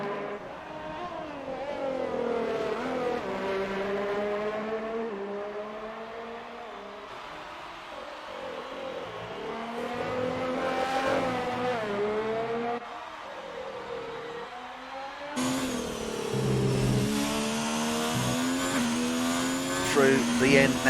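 A Ferrari Formula 1 car in a racing video game at the Hungarian Grand Prix, its engine whining and rising and falling in pitch through the corners, with a commentator talking over it.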